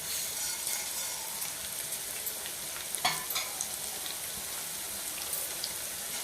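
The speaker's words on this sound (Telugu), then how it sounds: "పుదీనా పచ్చడికి కొద్దిగా ఆయిల్ వేసి జీలకర్ర ధనియాలు" Cumin and coriander seeds frying in a little oil in a pan for mint chutney, a continuous close hiss and sizzle with a few faint clicks and one sharper tap partway through.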